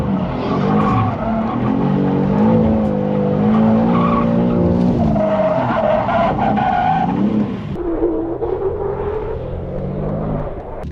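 A 600hp BMW G87 M2 in drift mode at a drag strip howls at high revs while its tires squeal and skid continuously for about ten seconds, the engine pitch rising and falling as the car swings through with too much angle.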